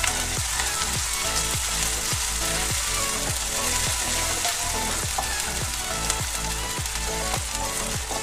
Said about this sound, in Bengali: এটাকে আমি 1 মিনিট ফ্রাই করব।